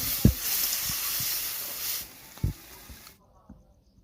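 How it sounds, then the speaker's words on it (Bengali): Prawn malai curry spices sizzle in a pan: a steady hiss for about two seconds that then drops to a quieter simmer, with a few soft knocks and thumps from stirring. "একটু কষাবো।"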